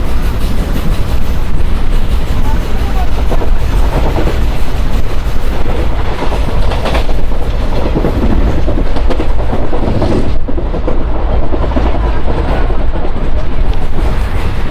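The Palnadu Superfast Express, an ICF-coach train running from Guntur to Vikarabad, rushes through a station with a loud, continuous roar and rhythmic wheel clatter, with wind buffeting the recording from on board.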